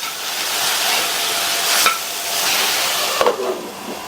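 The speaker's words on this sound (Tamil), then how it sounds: "உப்பு சேர்த்துட்டு மறுபடியும் ஒரு தடவை மிக்ஸ் பண்ணி விட்டுறலாம்." Ridge gourd stirred with salt in a cooking pan gives a steady soft sizzle and scraping rustle, with a couple of sharp utensil taps against the pan near the end.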